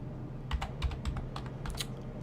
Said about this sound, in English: I'm pressing random keys on my keyboard right now, just trying to see if they do anything.